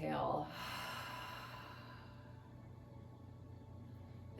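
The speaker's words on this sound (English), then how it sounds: "Open mouth, exhale. Let go." Yoga breathing: a single audible open-mouthed exhale at the start, a brief breathy sigh, then quiet room tone with a low steady hum.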